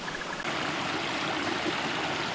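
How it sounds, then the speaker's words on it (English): A creek pours over a waterfall into Bootleg Lake, a steady, broad rushing roar that swells slightly early on and then holds loud and continuous, with no voices. "I hear the sound of rushing water as I approach the southwest side of the lake"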